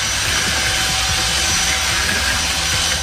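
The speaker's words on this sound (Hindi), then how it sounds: "बड़े कंस्ट्रक्शन मिक्सर का उपयोग करके हम शक्कर को अंडे के पीले जर्द के साथ मिला लेंगे।" A loud, steady mechanical drone of a large construction mixer beating sugar with egg yolks runs continuously, with a churning low rumble and rhythmic motor hum throughout.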